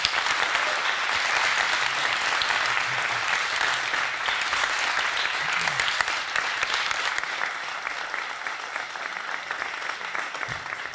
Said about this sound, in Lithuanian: Pasitikime plojimas mūsų svečius.